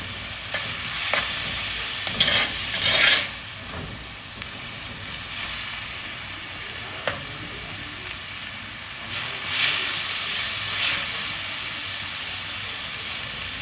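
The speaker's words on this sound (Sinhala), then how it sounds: "මේ ලුණු ටික හොඳට මැල වෙනකන් අපි හැදි ගන්න ඕනේ" Onions frying in a pan for an egg curry, stirred with a spoon: a close, continuous hiss of sizzling oil with intermittent scraping strokes and soft knocks against the pan, no voices.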